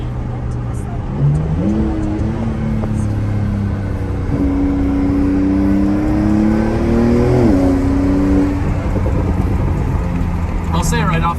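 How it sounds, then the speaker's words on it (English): A Porsche 992 Turbo S engine revs up and holds a rising drone, its pitch climbing and dropping as it accelerates, loud and close. "it's not the best sounding Porsche in the world"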